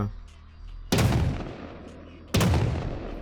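Two loud, sharp gunshots in the game Rust, spaced about a second and a half apart, each with a long rumbling decay over a low background hum.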